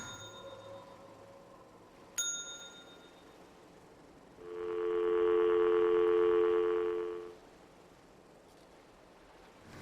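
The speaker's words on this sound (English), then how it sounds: "So that's what a phone sounds like." A telephone in the video game Singularity gives a single steady tone burst of about three seconds, loud against a quiet game background, preceded by a short ding.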